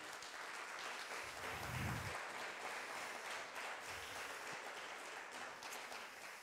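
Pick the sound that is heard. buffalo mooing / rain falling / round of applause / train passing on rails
round of applause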